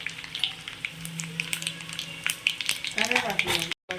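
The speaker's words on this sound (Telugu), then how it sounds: "తాలింపు మంచిగా ఎగిపోయింది" Tempering of dried red chillies, garlic, chana dal, urad dal, mustard and cumin crackles and sizzles in hot oil for gongura pulihora, a dense continuous spatter with sharp pops, and a voice speaks briefly toward the end.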